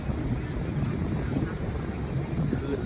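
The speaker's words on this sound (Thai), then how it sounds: "คลื่นลมแรงครับวันนี้" Strong wind buffets the microphone at the sea at Laem Mae Phim, with a steady broad rush that hides any separate surf. No voice is heard over it.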